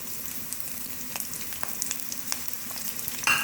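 Two medium onions, sliced, fry in about three-quarters of a cup of oil in a pan, giving a steady close sizzle with scattered crackles and small spits throughout, no voices.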